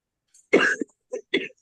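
Several short coughs, one harsh burst followed by two smaller ones, close and clear against silence.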